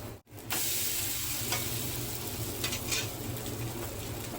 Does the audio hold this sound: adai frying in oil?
yes